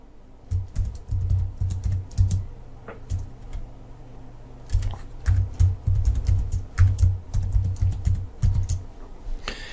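Keys clatter on a computer keyboard as a coupon code is typed into the Zenler course platform, with a fast, uneven run of close clicks, a short pause midway, then another burst, with no voices.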